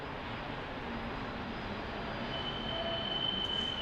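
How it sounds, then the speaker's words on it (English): An Embraer Legacy 650 jet lands on runway 35 at Salt Lake City airport, a steady broad engine roar, fairly distant and even, with a thin whine rising near the end. "Embraer Legacy 650 right here, landing on runway 35."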